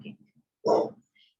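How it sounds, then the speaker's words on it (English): A single sharp dog bark sounds close by indoors in the middle, with a few softer low yips or whimpers just before it. "my dog just started barking"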